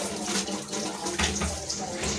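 Tap water runs steadily from a home faucet, a continuous splashing hiss with small surges, close and fairly loud with no voices.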